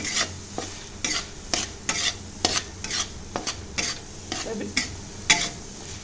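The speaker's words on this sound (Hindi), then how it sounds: "यहाँ पर देखिए हमारा खोया बहुत अच्छे से भून गया है" Khoya roasting in a kadai to a pinkish colour, stirred with a spatula in repeated scraping strokes, roughly one every half second, over a soft steady sizzle, close and fairly loud, with no talking.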